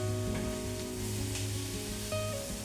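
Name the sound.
paneer, capsicum and tomato frying on a tawa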